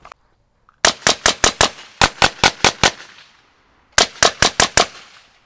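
AR-15 rifle firing rapid strings of shots at a range, three bursts of five sharp, loud, evenly spaced cracks each, with brief pauses between strings.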